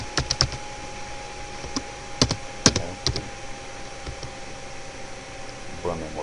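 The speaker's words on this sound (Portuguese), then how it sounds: "Então eu vou digitar aqui o comando" Keys clack on a computer keyboard as a router command is entered, a few scattered sharp taps with a brief cluster of quicker strokes, fairly close over a faint steady hum in a quiet room.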